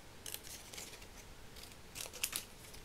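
Scissors snip through washi tape while a Christmas card is being crafted, giving a few quiet, crisp cuts in short bursts near the microphone, with no talking.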